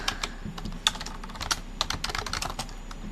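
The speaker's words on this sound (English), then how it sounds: "sometimes like my typing just gets out of whack and it's just forever, every word is wrong" Rapid typing on a computer keyboard, with a steady run of sharp, close key clicks in an uneven rhythm and a few louder strikes, with no voices.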